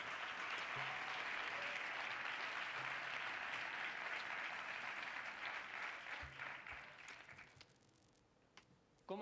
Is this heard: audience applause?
yes